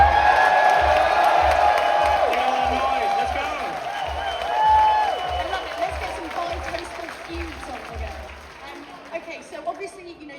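A crowd at a Gran Turismo race event in Los Angeles cheers, claps and whoops, a lively sustained roar that fades toward the end, with voices shouting over it.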